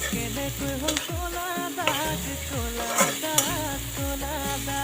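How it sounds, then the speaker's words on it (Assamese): Beet greens stirred in a hot frying pan: a steady, close sizzle broken by repeated scraping stirs, with no talking. "অকণমান বিট পালেংখিনি এতিয়া লৰাই লওঁ"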